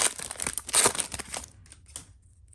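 A 1999 Topps football card pack is torn open, with close, brief crinkling and tearing of foil wrapper that fades after a second or so.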